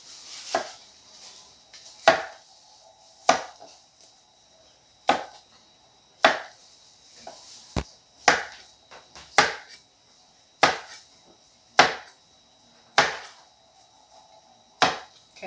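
A knife chops broccoli on a cutting board with a dozen or so crisp, separate thuds at an uneven, unhurried pace, close by and alone in a quiet kitchen.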